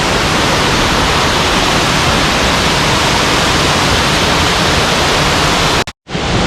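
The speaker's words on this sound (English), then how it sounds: "this is Wyandot Falls, which is 15 feet tall" Wyandot Falls, a 15-foot waterfall on Kitchen Creek along the Falls Trail in Ricketts Glen, roars as a loud, steady, broadband rush up close, cutting out briefly near the end.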